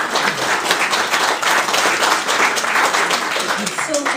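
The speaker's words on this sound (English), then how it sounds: "So I think you can give yourselves a round of applause." A round of applause from an audience at an awards evening, dense continuous clapping with voices faintly mixed in.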